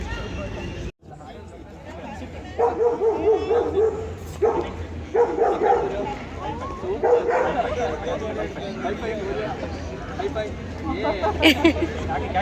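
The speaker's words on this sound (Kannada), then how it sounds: "ಜಾಸ್ತಿ ಡಾಗೀಸ್ ಇರ್ತಾ ಇದೆ." Several dogs barking, yipping and whimpering at a busy dog show in Cubbon Park, Bangalore, a mix of near and farther barks recurring in bursts over crowd babble, with people talking throughout.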